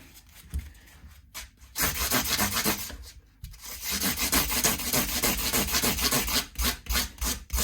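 Sandpaper of 400 grit rubs back and forth across the metal frets of a Fender Mexican-made Precision bass neck, close rhythmic scraping strokes in bursts with short pauses between.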